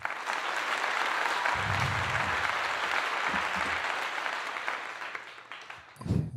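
A round of applause from an audience on a talk show, with sustained broad clapping that slowly thins and fades, while a few low voices break through near the start and the end.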